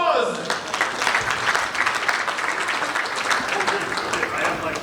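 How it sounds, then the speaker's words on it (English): A big round of applause fills a large corporate anniversary gathering, with dense, steady clapping from a sizeable crowd continuing throughout, loud and sustained, with some voices mixed in. "him a big round of applause"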